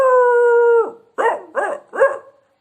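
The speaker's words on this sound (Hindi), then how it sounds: "कुत्तो," A dog lets out a long, steady howl, then gives three short barks in quick succession, loud and close with no other sounds.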